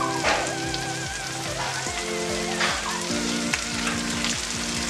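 Cumin paste is stirred into chicken liver frying over a low flame, giving a continuous close sizzle broken by repeated scraping strokes and soft clicks of the spoon against the pan.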